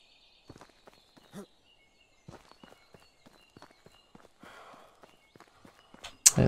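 Footsteps running through the medieval survival game Medieval Dynasty, a series of soft, irregular thuds spaced through the stretch, with a louder burst of noise at the very end.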